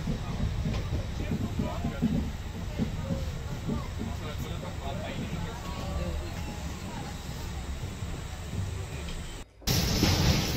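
A passenger train on a trip through Tamil Nadu rumbles steadily along the rails, heard from inside a carriage with a continuous low roar and rattling clatter, briefly cut near the end, with faint voices around.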